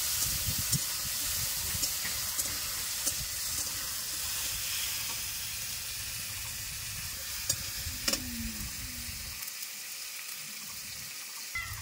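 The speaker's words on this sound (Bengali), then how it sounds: "টমেটো কুচি দিয়ে দিচ্ছি, ভেজে নেব একটু" Chopped tomato frying in oil with nigella seeds for bhindi posto: a soft, steady sizzle with light stirring scrapes and an occasional clink, fading to near silence just before the end.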